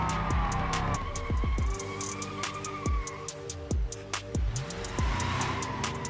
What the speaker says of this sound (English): I didn't realise this was a right hand turn, and we spin the truck, so let's try and do a 360.